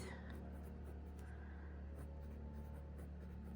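A Pilot Kakuno fountain pen with a fine nib scratches faintly across paper in short, soft strokes, very quiet and close against a low background hum, with no talking.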